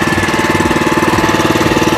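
Grass-cutting mower engine running close by, a loud, steady, rapidly pulsing mechanical chug with a regular knocking rhythm and no pauses, heard alone without talk.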